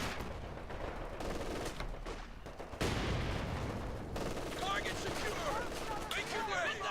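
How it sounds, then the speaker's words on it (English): Gunfire bursts in the World War II strategy game Company of Heroes 2, with a machine gun rattling amid dense battle noise and rapid repeated shots that grow louder partway through. "The sniper took a nasty burst from the machine gun"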